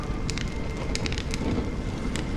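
Fire crackling in the Honkai Star Rail video game, with scattered sharp pops and snaps over a steady rushing bed that also carries rain and wind, with no talk.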